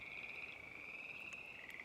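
Frogs call steadily in a high, continuous trilling chorus from a lakeshore, faint and distant, with a few brief sharper chirps near the end.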